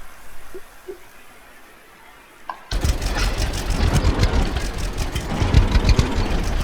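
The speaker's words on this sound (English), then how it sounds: "So I got a magenta tractor." A tractor engine in the farming game Farmers Dynasty 2 starts after a few quiet seconds with faint clicks, then settles into a loud, steady chugging run with rhythmic low rumble throughout.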